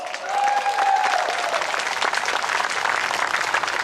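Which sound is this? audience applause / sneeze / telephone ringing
audience applause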